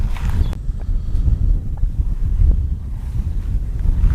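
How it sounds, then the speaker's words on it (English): Wind blows hard outdoors, buffeting the microphone in low rumbling gusts that rise and fall, close and unbroken, with no voices. "It's quite windy here today."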